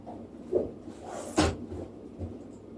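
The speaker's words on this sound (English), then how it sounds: "I need to get a piece of wax paper out of the drawer." A kitchen drawer is pulled open to reach for wax paper, giving a short thud, then a louder sliding knock and a softer bump, all close in a quiet room.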